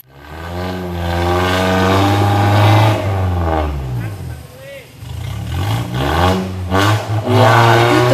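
A 4x4 off-roader in the Berau Tropical Challenge revs hard and loud as it climbs, its engine note rising and falling in long sustained surges, while several people shout and talk nearby throughout.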